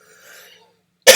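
A single short, sharp cough from a man getting over a cold bursts out at the end after a faint breathy throat sound.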